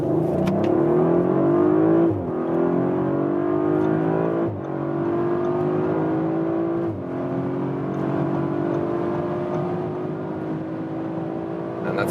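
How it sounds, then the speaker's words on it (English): Audi RS5 coupé accelerating hard from about 30 km/h, engine note rising steadily with brief dips at each upshift, heard loud and close from inside the cabin. "We'll start here about 30 kilometers an hour and accelerate it out."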